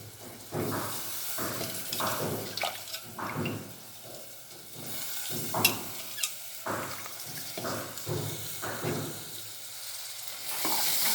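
Ingredients stirred and frying in a pan for a dish of dried fish, with intermittent scraping bursts over a steady close sizzle.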